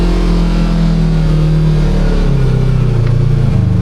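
A Kawasaki KRX 1000 side-by-side engine fitted with an RNG Performance clutch kit revs steadily under throttle, a loud, close, continuous drone whose pitch sags slightly toward the end, with no talking.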